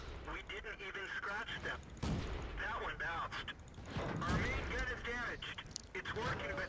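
Tank cannon fire in the video game World of Tanks with a Pz. B2, several booming shots and mechanical clanks spread through the clip under steady talk by a man.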